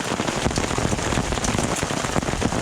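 Hail and heavy precipitation pelting a Jeep's fiberglass top during an overland drive in a storm, a dense, loud, continuous patter of rapid impacts close overhead.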